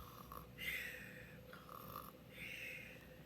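A voice imitates a bear snoring, with two drawn-out rasping snores about two seconds apart, fairly quiet and close, with no other talk.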